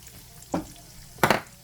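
Pork in a hot frying pan, quiet background sizzle broken by two short clattering scrapes of a utensil moving the meat, close and without talk.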